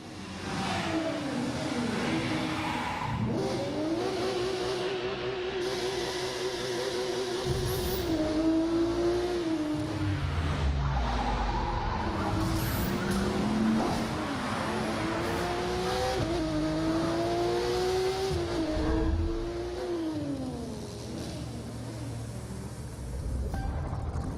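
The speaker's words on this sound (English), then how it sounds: "street racers prove their skills, skidding on rooftops, burning asphalt, and tuning their rides." Street racing cars from The Crew 2 game trailer rev hard and shift through gears, engines rising and falling in pitch with rumbling and skidding tires, loud and continuous.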